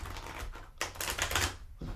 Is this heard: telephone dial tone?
no